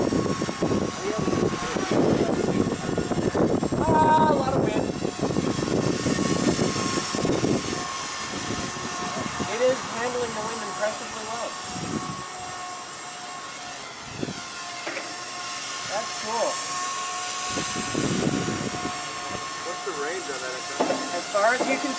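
A small RC helicopter built with 3D printed parts flies outdoors in gusty wind, its steady whirring whine running throughout beneath wind noise while people talk nearby.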